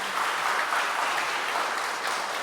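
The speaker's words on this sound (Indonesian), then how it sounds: "Kita tepuk tangan gitu ya." Audience at a university literature faculty anniversary Mass applauding steadily, a dense, even clapping that holds for the whole stretch without talk.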